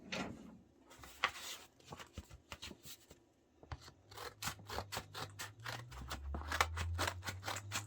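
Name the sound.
scissors cutting open an envelope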